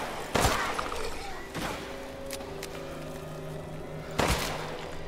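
Shotgun blasts in the video game Resident Evil 8, two heavy booming shots a few seconds apart with a sharper crack between them, close and loud over low game ambience while someone talks.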